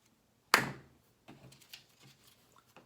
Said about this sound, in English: I have clap once.